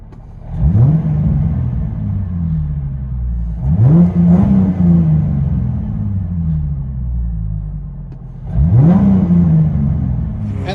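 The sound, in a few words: 2005 Ford Mustang 4.0L V6 straight pipe dual exhaust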